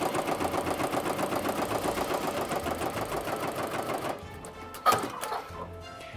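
An embroidery machine stitches a tack-down line through fabric on wool felt, a close, rapid, even mechanical chatter that runs steadily before stopping, followed by a brief clunk and quieter handling sounds.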